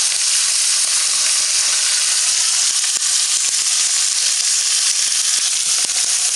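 Shallots fry in a pan beside grilled tilapia, giving a loud, dense, continuous sizzle with scattered small pops and crackles, close up and without talk.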